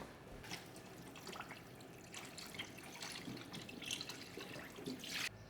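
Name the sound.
filling a pot with tap water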